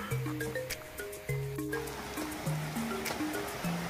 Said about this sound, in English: you can actually hear the crashing of the waterfalls